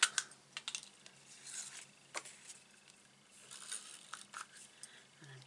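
Tape runner laying adhesive while a Stampin' Up birthday card is assembled, heard as faint, close clicks and short scratchy rolls scattered irregularly across a quiet tabletop.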